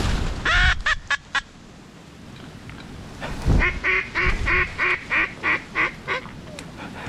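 A hunter's duck call imitates ducks in a small pool on a windy hunt, giving a quick run of quacks followed by a steady string of about ten evenly spaced quacks over constant wind noise.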